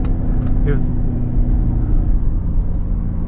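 A 2017 Ford Raptor truck engine, held in a low gear and not upshifting, rumbles steadily from inside the cab at close range, a constant droning hum with road noise throughout, under a voice.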